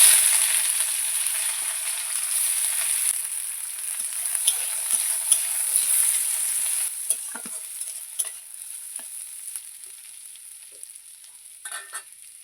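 Onions frying in hot oil for a river fish curry, a steady loud sizzle with occasional stirring scrapes, gradually easing toward the end, with no talk.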